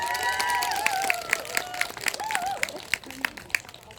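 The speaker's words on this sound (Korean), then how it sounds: "더 크게 박수 부탁드릴게요" An audience applauds calligraphy artist Kim Hyo-eun after her live calligraphy performance. Scattered, distinct claps ring out while voices and cheering rise over them and then gradually thin out.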